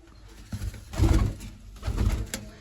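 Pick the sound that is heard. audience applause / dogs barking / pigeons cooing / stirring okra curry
pigeons cooing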